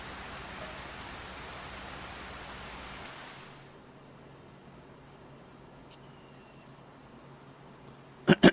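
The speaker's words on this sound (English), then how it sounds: "I got to get rid of this rain." Steady rain in Farming Simulator hisses as a dense wash for about three seconds, then abruptly stops, leaving quiet near-silence before a couple of sharp clicks at the end.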